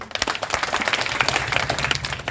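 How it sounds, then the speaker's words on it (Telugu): An audience at a TDP party workers' meeting claps together, a dense patter of many hands at moderate distance that keeps a steady pace throughout, with no speech over it. "చప్పట్లు బాగా కొట్టారు"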